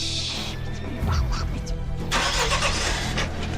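A car engine starts and runs steadily near the listener outdoors, with a short louder surge partway through and continuous rumble throughout; faint voices can be heard in the background.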